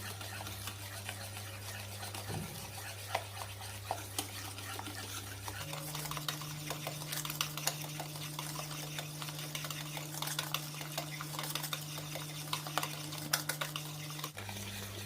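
Powdered sugar and ghee are being beaten together by hand for homemade ghee biscuit dough, with steady scraping and tapping of a utensil in a bowl running throughout, a low steady hum underneath and no talking.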